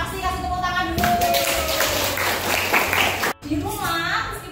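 A classroom of students claps hands together in a burst of mixed applause, with voices talking and calling out around it, close and lively, and a brief drop before chatter resumes.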